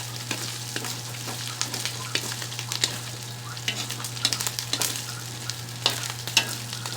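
Pork browns in a talyasi pan for string bean adobo, a steady crackling sizzle with scattered stirring clinks over a constant low hum and no talking.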